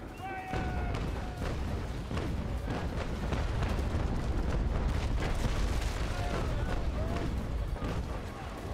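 A broadside of 2-pounder guns fires as a dense series of rumbling booms and sharp reports that blend into a sustained, echoing roar at a distance, with no speech heard.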